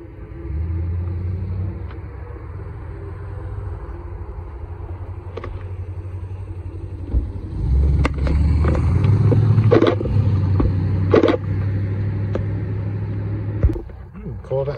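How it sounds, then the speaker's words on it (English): An old American pickup with a turbo diesel V8 drives past while leaving Oulton Park, giving a steady deep engine rumble that swells louder midway. A voice talks over it. "Old American pickup"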